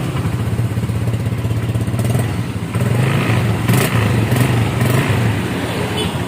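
A Honda Vario 125 scooter with a modified, bored-out exhaust idles close by, a loud steady rattling putter with a few light throttle blips and clattering.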